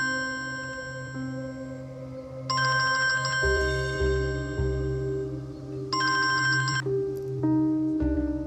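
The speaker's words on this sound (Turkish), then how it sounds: "Yaman Ferit arıyor" A mobile phone ringtone plays clearly for several seconds as a repeating electronic melody with bright tonal bursts, loud and close, with no talking over it.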